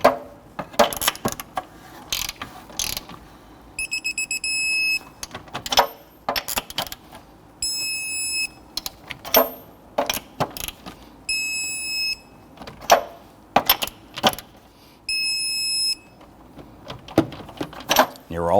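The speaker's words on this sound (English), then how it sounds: "Let's now go ahead and torque down our lug nuts to 94 foot-pounds." Lug nuts on a Honda Ridgeline are tightened to torque with a torque wrench, giving bursts of sharp ratcheting clicks and a few metallic pings in an uneven rhythm, loud and close.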